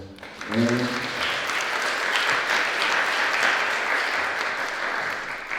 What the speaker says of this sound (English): So give it up, another round of applause for Dr. Paul.